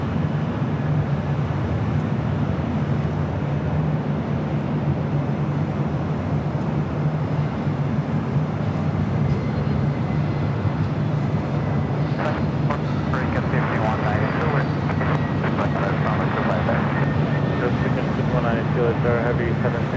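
A heavy Boeing 767 at LAX rolls for takeoff, its broad engine roar steady and loud throughout with wind buffeting, while a voice talks over it.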